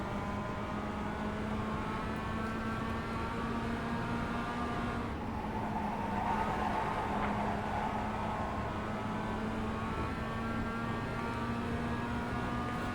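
A Mazda MX-5 race car engine in the iRacing sim at Summit Point Raceway drones steadily at a sustained pitch, swelling slightly in the middle, with no talking.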